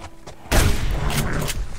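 A single loud rifle shot fired at a moose in the hunting game Subsistence, a sudden close blast followed by a broad rolling echo that fills the rest of the moment.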